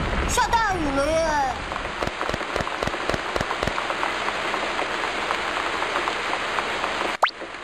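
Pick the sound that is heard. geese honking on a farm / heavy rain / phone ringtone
heavy rain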